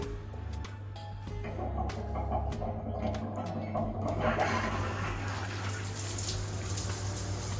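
A hammam shower is turned on after a few clicks and ticks, and running water then gushes in steadily and hisses loudly over a low constant hum until the end.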